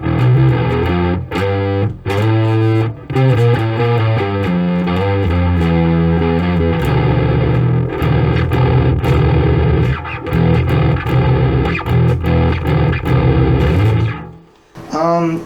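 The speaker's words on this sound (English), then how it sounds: "I don't know how I feel about this this distortion circuit or emulation" A bass guitar through a distortion emulation plays a run of sustained, gritty notes, loud and close, with brief pauses between phrases.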